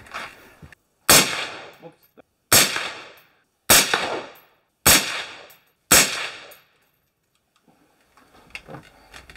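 Five sharp, loud rifle shots from a Perun X-series rifle at an outdoor shooting range, spaced about a second and a quarter apart, each ringing out with a decaying echo, followed by faint murmuring.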